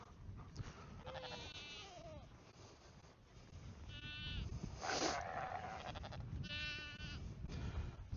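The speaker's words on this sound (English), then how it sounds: "this is where we ended up moving all the goats and put them in with the sheep" Goats and sheep housed together in a shared pen bleat in several separate calls, some overlapping, at moderate distance over steady background noise, with a voice speaking briefly.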